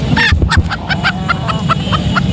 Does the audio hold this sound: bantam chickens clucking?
yes